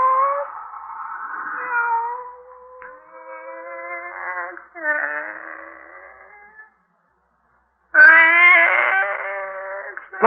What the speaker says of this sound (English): Come here, Kitty